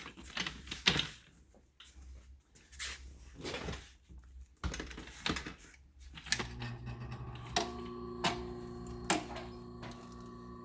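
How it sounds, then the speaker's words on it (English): A commercial sewing machine stitches the edges of a leather bag, starting with scattered clicks and knocks, then settling into a steady mechanical hum with a regular stitching rhythm. It is close and moderately loud, with no talking. "let's go to our sewing machine and sew these two up"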